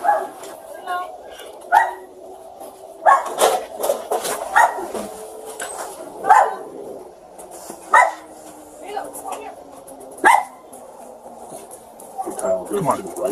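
Two dogs in a house bark in repeated sharp bursts, with some yips and whimpers, close and loud, while people talk nearby.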